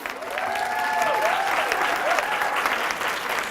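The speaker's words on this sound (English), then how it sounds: "Give her a big round of applause." A steady wash of audience applause greets a woman stepping up at an outfit showcase, dense and even throughout, with faint tonal whistling threaded through the clapping.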